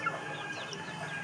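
Country chickens, a hen with her three-month-old chicks, cluck and peep softly in a quick, overlapping chatter at moderate distance.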